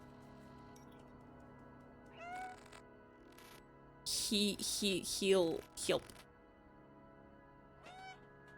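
A cat meows several times in the video game Stray, with a short call near the start, a louder cluster of cries in the middle and one last meow near the end, while a person talks softly in between.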